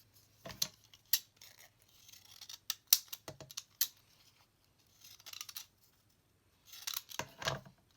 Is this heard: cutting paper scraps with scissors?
yes